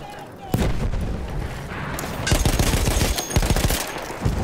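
Heavy gunfire from an enemy's large gun in Battlefield 1, loud rapid bursts of shots that start abruptly, pause briefly, then resume in a stronger rattling volley.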